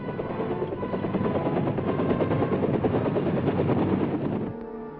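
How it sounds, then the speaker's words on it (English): Military helicopters flying in during the Vietnam War, a loud, rapid rotor chop with a steady engine drone that holds for several seconds and then drops away abruptly near the end. "When we gave the signal, the choppers would come in with more."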